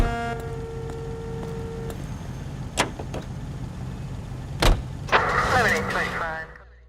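A car drives in the L.A. Noire video game, a steady engine hum running throughout. Tonal music plays early on, then come a couple of sharp thuds and a brief mechanical whir near the end, with people talking over it.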